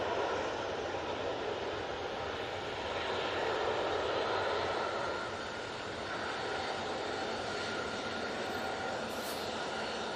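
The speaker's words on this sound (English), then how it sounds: "And the easyJet now on the roll." An easyJet airliner on its takeoff roll gives a broad, steady jet roar that holds loud and continuous, swelling slightly midway with no voices over it.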